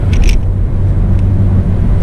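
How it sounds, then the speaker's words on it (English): A 2020 Toyota Supra in sport mode takes a turn, its engine a steady, loud low rumble close up throughout, with a brief higher clatter near the start. "Let's put it in sport mode as we hit this turn here"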